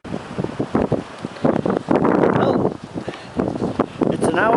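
Strong wind blowing outdoors in bad weather, a loud, steady rushing roar with gusts that swell and buffet the microphone, close and continuous.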